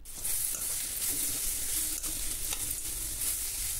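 Chopped ivy gourd pieces with turmeric fry in a hot pan, a steady loud sizzle with occasional scraping as they are stirred, continuous and close.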